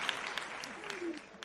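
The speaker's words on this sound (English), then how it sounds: "Let's play some clapping first" A small group claps at a business-growth talk, a short stretch of loose, fairly quiet hand claps heard under a faint background voice.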